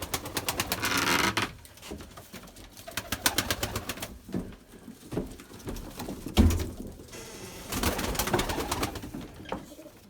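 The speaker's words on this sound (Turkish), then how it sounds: "Bakın arkadaşlar bir sürü kuş var yine havada." Pigeons, a flock of white birds flying in the open air, with bursts of rapid wing flapping and clatter that come and go, faint background noise between them and no clear talk.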